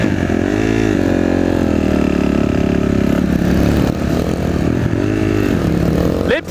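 A 250cc motorcycle pulls away on a forest ride, its engine loud and close, revving with gear changes and pitch rising and falling, with no talking.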